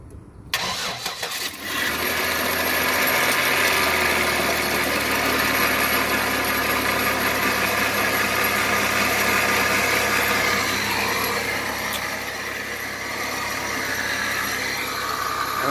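A car engine cranks and fires up after a battery replacement, then settles into a steady, even idle that runs for well over ten seconds with no voices.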